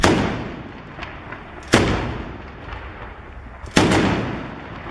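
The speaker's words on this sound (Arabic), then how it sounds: "اطلاق صاروخ كونكور" Konkurs anti-tank missile fire against a T-62 tank in Umm Sharshouh near Homs, heard as loud sharp blasts with rumbling tails at roughly two-second intervals, preceded by a fading boom at the start.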